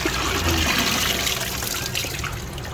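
Running water splashes steadily as sweet potato leaves are rinsed, a continuous close rush with small trickling and sloshing sounds.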